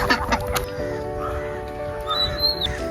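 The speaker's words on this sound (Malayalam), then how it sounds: "ഗായ്സ് റോട്ടിൽ നിറച്ച് താറാവ്" A flock of ducks on a road quacking and chattering nearby over steady outdoor background noise, with a few higher calls standing out.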